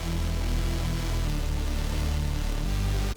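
Dense drum and bass bass line made in Ableton with a glue compressor, heavy sustained low tones filling the mix, loud and steady without talk, cutting off abruptly at the end.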